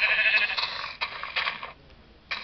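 Sheep bleating in Minecraft Pocket Edition, several short nasal bleats in quick succession, then a pause and one more bleat at the end.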